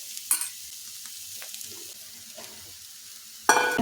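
Boiled potatoes are sautéed in a pan, a faint low sizzle with scattered spatula clicks and scrapes, then a louder burst of clattering and sizzling at the end.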